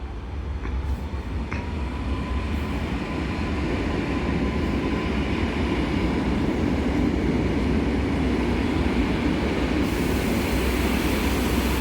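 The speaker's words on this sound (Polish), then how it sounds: "A tutaj wjeżdża niezidentyfikowany pociąg" An unidentified train pulls into Opole Główne station with a steady, swelling rumble of wheels and wagons, close and loud throughout, with a faint squeal near the start.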